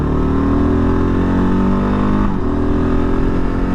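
A 2022 Kawasaki KLR650 motorcycle at full throttle on a highway, its engine roaring loud and steady with a rising pitch as it accelerates, heard close up and continuous without any talk.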